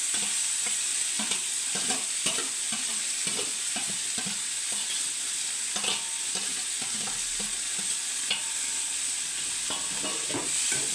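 Green chillies, curry leaves and tomato frying in a pan, a close continuous sizzle broken by frequent rhythmic scrapes and taps of stirring.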